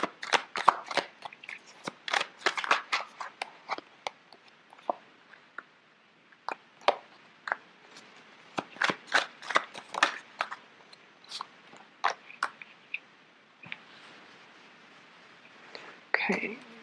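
Tarot cards being shuffled by hand during a reading, giving repeated crisp riffling and slapping bursts in irregular clusters, close and fairly loud, with short pauses between rounds.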